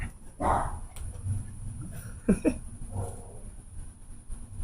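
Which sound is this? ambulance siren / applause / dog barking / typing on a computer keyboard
dog barking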